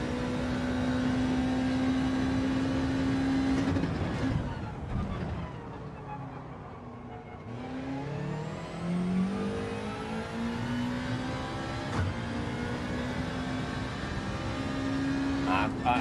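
Engine of a Subaru driven in Gran Turismo 7 drones steadily, dips as the car brakes or shifts, then rises again through the gears, a continuous game engine sound with little else over it.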